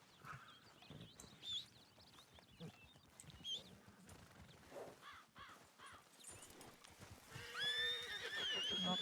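Horses in the Western game WildRP whinny and neigh several times amid clip-clopping hooves, with crows cawing nearby; the neighs grow louder toward the end and there is no talk.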